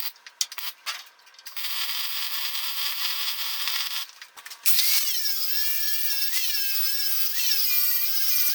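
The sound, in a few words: welding steel tabs onto grinder storage rack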